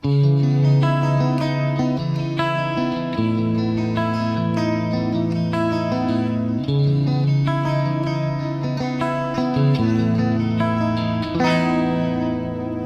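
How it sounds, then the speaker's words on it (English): A clean electric guitar, an Indio Helix on its fourth pickup position, plays sustained chords and melodic notes, warm and full, with a light shimmering chorus-like effect and no talking. "This is another really nice position for clean tones I always found."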